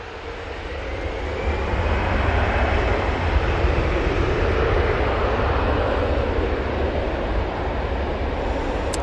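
An easyJet Airbus A320-200 passing at Manchester Airport, a rising rumble of jet engines that grows over the first two seconds and then holds as a steady, moderately distant roar, no talk.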